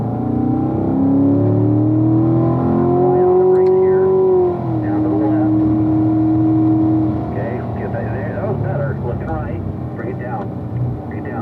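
A CL1 race car engine on a racetrack revs loudly and steadily as it climbs through the gears to fourth, with pitch rising, dropping at the shift, then droning on while a coach talks over it.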